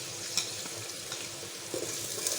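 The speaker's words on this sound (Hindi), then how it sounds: "इसकी हम थोड़ी सी 2 से 3 मिनट जो है वो दरमियानी आंच में इसकी भुनाई करेंगे" Onion and garlic paste frying over medium heat for chickpea curry, a steady soft sizzle with faint scraping stirs and a few light clicks throughout, no voices.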